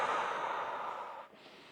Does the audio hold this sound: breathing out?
yes